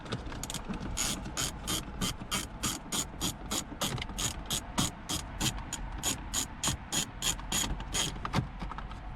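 Radio bezel bolts come out of a Lexus IS250/IS350/ISF dashboard with a ratchet wrench, heard as a long, fast, even series of close clicking pawl ticks.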